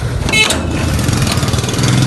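A motorcycle wheeled out of a house in Lahore in the early-morning dark, its engine idling with a loud, close, uneven rumble, a brief higher-pitched tonal burst near the start.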